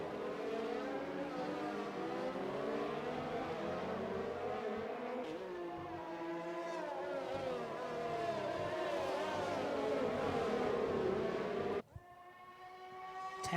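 Ferrari race cars in a racing video game, set on the Singapore circuit, rumble steadily as they roll out onto the track, engine tones rising and falling across several cars before an abrupt cut to a different engine note.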